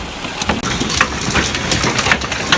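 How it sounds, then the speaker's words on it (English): Hail pelts down in a Texas hailstorm over Austin and the Hill Country, a dense, steady clatter of many close impacts with sharp cracks scattered throughout. "initial reports of hail pelting Austin and the Texas Hill Country began to emerge"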